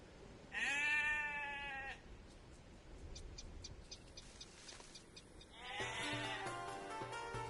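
Sheep bleating in the Age of Empires video game, two clear wavering bleats separated by a pause with faint clicks and game ambience between them, quiet overall.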